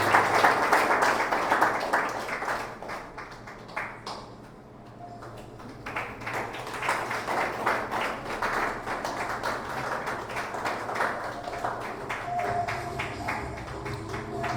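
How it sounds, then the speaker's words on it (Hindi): Applause at a Sunday evening church prayer service, a dense wash of clapping that dips briefly near the middle then swells again, steady and moderately loud with some voices mixed in. "जोरदार तालियां सोनी कुशवाहा के लिए। सोनी कुशवाहा"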